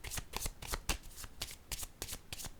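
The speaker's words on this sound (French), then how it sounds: "Je vais déposer une carte ici qui me parle du début" Tarot cards are handled on a table with a quick series of soft, crisp card slaps and shuffling flicks, close and quiet, with no talking.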